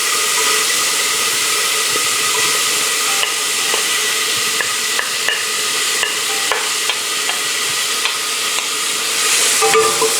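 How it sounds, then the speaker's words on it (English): Garlic sizzles in a hot pan with a steady, loud hiss, broken by scattered clicks and scrapes of stirring, close-up and without talk. "Let's lower the heat. And let's add in our garlic."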